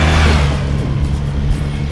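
A 1993 BMW R100GS-PD Paris-Dakar with an airhead boxer engine runs steadily and loudly up close, its deep, even drone holding without a break.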